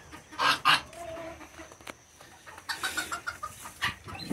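Chickens cluck at night on a farm in a run of soft, close, irregular clucks and a few louder squawks, with rustling and small knocks around them.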